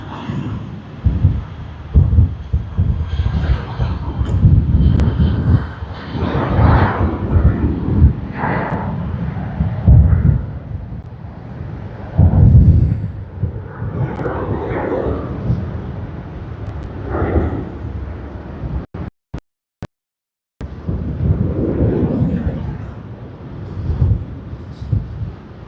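Jetstar Airbus A320 taking off at Sydney Airport, a distant low rumbling engine roar that swells and fades in waves, buffeted by wind noise, with a brief dropout partway through.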